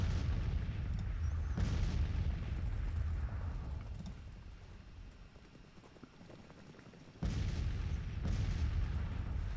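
Rumbling artillery fire from a Civil War battle video game booms in heavy bursts, fading to a quieter distant roar midway before loud cannon volleys return.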